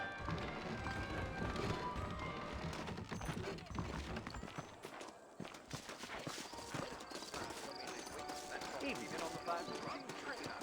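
Saddled horses in the Red Dead Redemption western game clip-clop on the ground with quick irregular hoofbeats and an occasional whinny, mixed with voices and background game sound.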